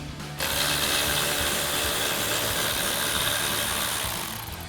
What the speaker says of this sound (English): grab our 10mm socket on our ratchet and remove the mounting bolts for all three